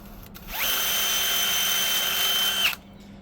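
A drill revs up and holds a high, steady whine for around two seconds as it bores through material, then cuts off abruptly.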